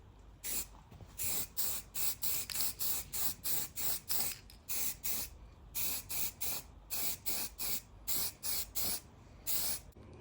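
Spray can bursts coating a primed model truck body for a colour test, about twenty short regular hisses with brief gaps between them, close and alone.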